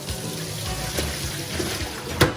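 Tap water runs steadily into a kitchen sink as raw chicken pieces are rinsed with room-temperature water, a continuous close splashing hiss with a brief louder gush near the end.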